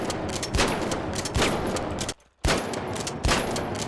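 Bursts of rapid gunfire from the video game The Finals, loud and close, in several sustained volleys with a brief silent gap partway through.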